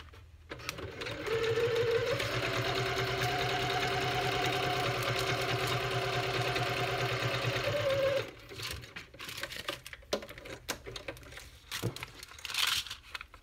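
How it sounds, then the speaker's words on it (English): A sewing machine stitches across fabric for a window belly band craft, running steadily with a mechanical hum and rapid rhythmic clatter for several seconds. It then stops, leaving faint handling noises and rustling. "I'm just gonna sew across here first."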